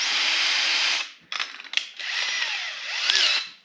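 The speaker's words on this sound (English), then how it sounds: "this is the proper way to hole saw" Brand-new sharp hole saw cutting a hole for a boat through-hull fitting, a loud high whirring grind in two bursts separated by a pause with short clattering catches.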